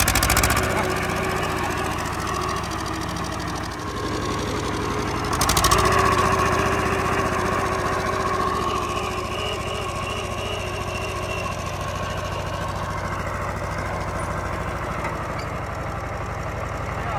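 Vintage 1972 mini tractor with a combustion engine running outdoors, a steady mid-pitched chug with a brief louder burst of revving, voices talking over it throughout.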